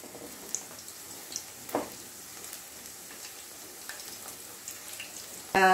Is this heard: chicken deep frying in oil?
yes